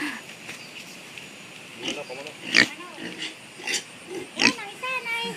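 A pig gives a series of close snorting grunts and sniffs in short irregular bursts, with people chatting nearby between and over the grunts.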